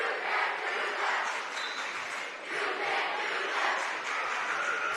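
A college basketball student section roars at a PC vs. Pacific game, a dense, steady wash of crowd noise with swelling shouts that fills the arena without a break.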